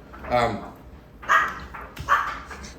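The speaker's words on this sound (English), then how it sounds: "What are you barking at?" A dog barks three times, spaced out and fairly close, with sharp yappy tones.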